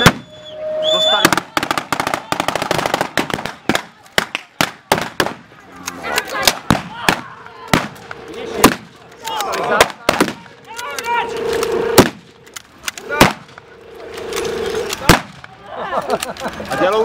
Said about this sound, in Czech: Zatpí si uši. To sú umelé náboje.